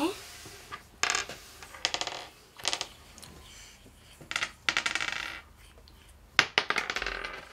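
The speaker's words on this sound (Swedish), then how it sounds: "Då får du slå tärningen." A die rolled across a board during a family board game: several sharp clattering bursts of small hard tumbling and bouncing, spread irregularly over several seconds, close and crisp, with no talk.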